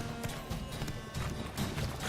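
A horse's hooves clip-clop in a steady rhythm in the video game The Witcher 3, with a whinny mixed in, fairly close and without talk.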